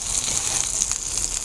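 Thawed hamburger meat sizzles in a pan as it starts releasing grease, a steady, even crackling hiss that holds at a moderate level throughout, with no voices.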